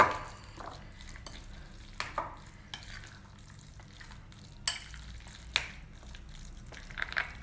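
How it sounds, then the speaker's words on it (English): A bread uthappam batter of rava, curd and salt is stirred by hand, giving quiet, soft scraping and squelching strokes at a low level with no voices. "Now mix them all together very well."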